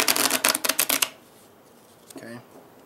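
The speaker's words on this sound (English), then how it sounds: "standard riffle shuffle." A deck of playing cards is riffle shuffled, giving a fast, crisp burst of close fluttering clicks for about a second, then quiet, with a brief voice afterward.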